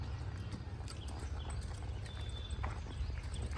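Horse hooves clip-clop steadily during a ride at a horse training yard in the rainy season, close and continuous over a low rumbling background.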